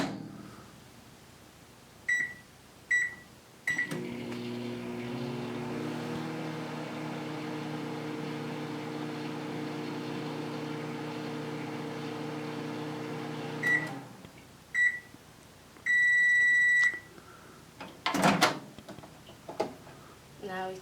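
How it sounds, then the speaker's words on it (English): A microwave oven heating water hums steadily for about ten seconds, bracketed by button beeps and door clunks, then a longer ending beep sounds before the door opens; quiet room otherwise. "I'm putting the water in the microwave for about 10 seconds."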